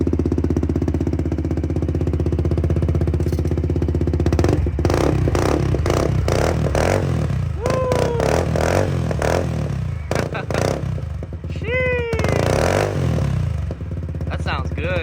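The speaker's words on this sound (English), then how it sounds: "Make sure she's in neutral, give her a little rev." A Polaris Sportsman 110 ATV fitted with an HMF aftermarket exhaust idles loudly in neutral, then is revved in several sharp, rising bursts with rattly clatter between them, close to the listener.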